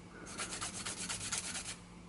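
Someone hand-sands a molded pipe stem blank, making a rapid run of soft, rhythmic rubbing strokes that starts abruptly and stops about two seconds later, faint and close.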